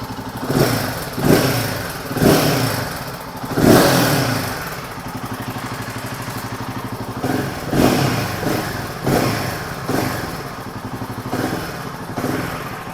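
Royal Enfield Himalayan 450 single-cylinder engine fitted with an NGage air filter, idling close by with a steady throbbing note and several brief rev blips rising and falling, no talking.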